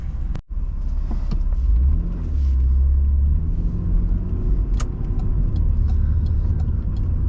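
A 1992 Mitsubishi 3000GT SL pulls away, its engine a deep, steady rumble rising and settling close by, with a few light clicks over the droning motor.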